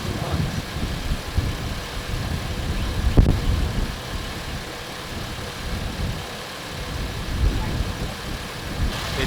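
Car engine idling steadily after a cracked radiator repair, a low continuous rumble throughout, close by, with a brief louder bump near the middle.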